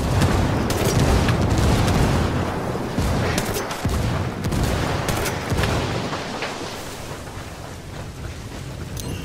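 In the video game Ghost Recon Wildlands, a grenade explodes amid gunfire, and a dense stretch of loud booms and rapid cracking shots rolls on continuously with no speech.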